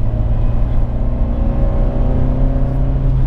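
A 2017 Fiat 124 Spider with a 1.4-liter engine and six-speed manual gearbox drones loudly and steadily under acceleration, heard up close with no talking.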